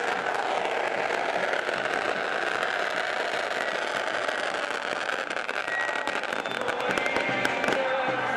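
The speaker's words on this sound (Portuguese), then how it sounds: "E olha a bateria com efeitos especiais, fogos de artifício, aqui na entrada do ensaio técnico da Gaviões da Fiel." Fireworks go off at the entrance of a samba school's technical carnival rehearsal, a dense continuous crackling roar with sharp pops throughout, loud and unbroken.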